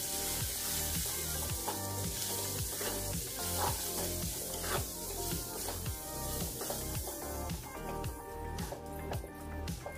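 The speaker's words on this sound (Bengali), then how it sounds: "এখন মশলাটা আমি কষিয়ে নেব ভালো করে।" Spice masala for a mutton liver and potato curry frying in a pan, a continuous close sizzle with rhythmic scraping stirs throughout.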